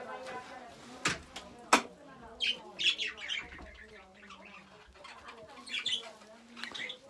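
Budgerigars in a home aviary, including albino and lemon-coloured birds, squawk and chirp in repeated bright bursts, some sharp calls standing out close by against a steady chattering background.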